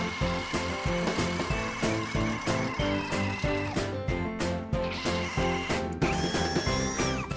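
A cheap $45 hammer drill fitted with a 7/8-inch bit runs close by, a loud, harmonic motor whine with a fast, regular pulsing beat throughout, alone without talk.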